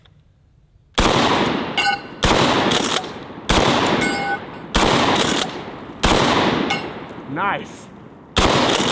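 A DP-12 double barrel shotgun fires repeated loud, sharp blasts at steel plates, roughly six shots spaced about a second apart, each followed by ringing echo, with a brief voice between shots.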